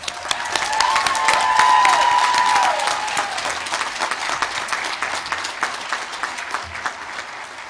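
A commencement audience applauds university graduates, sustained clapping that swells early and slowly thins, with a brief whistle or cheer early on.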